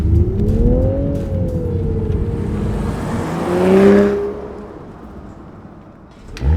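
A Toyota GR Supra with a six-speed manual revs hard while driving, engine note rising and falling in pitch with a louder surge midway, steady and close with no talk.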